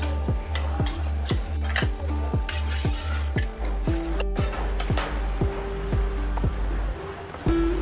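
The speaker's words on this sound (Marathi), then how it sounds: "हे छान मिक्स करून घ्यायचं आहे." Falooda with vermicelli, pistachio and almond slivers is stirred in a bowl, a spoon clinking rhythmically against the sides roughly twice a second, loud and close, with no voices.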